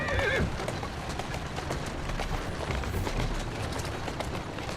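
Horse hooves clip-clop at a steady trot while pulling a carriage in Assassin's Creed Syndicate, a continuous rhythmic clatter of close hoofbeats with faint background ambience.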